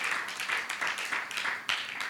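A church congregation claps during a sermon, with a brisk, even applause that pulses steadily at moderate volume and no voice over it.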